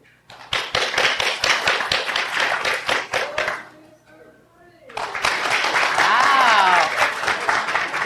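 Audience clapping at a diabetes-themed game show, rhythmic close claps in a steady burst, pausing for about a second, then resuming loud, with voices audible over the second round.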